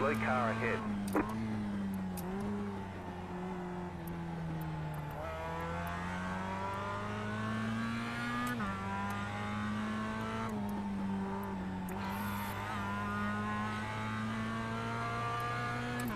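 Mazda MX-5 Cup race cars in iRacing at Tsukuba Circuit, engines droning steadily with repeated rising and falling revs through gear changes, constant and close, under a commentator's running talk.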